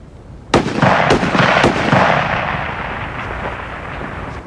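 Magnum rifle shots ring out at a 600-yard target match, three sharp loud cracks in quick succession with booming echoes that roll on and fade slowly across an open range.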